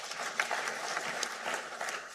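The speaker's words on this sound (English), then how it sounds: "Please give them another round of applause." Sustained applause from an audience at a national safe motherhood conference, thanking a panel; dense, steady clapping fills the whole stretch at a moderate distance, with no one speaking over it.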